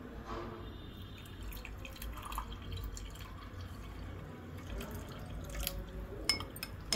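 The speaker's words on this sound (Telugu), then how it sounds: "ఇప్పుడు ఇందులో వాటర్ వేసుకుందాం. కూల్ వాటర్ అయితే బాగుంటుంది." Cool water is poured into green mango juice, making a faint, soft trickle with light drips and splashes for several seconds, with no talking.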